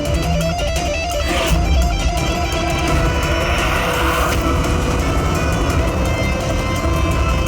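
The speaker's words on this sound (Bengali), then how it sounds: "মনে হচ্ছে খুনি গাড়ি নিয়ে পালিয়ে গেল" A getaway car pulls off and drives away in a tense crime-drama scene, its engine roar and tire noise blending with dramatic background music, loud and close throughout.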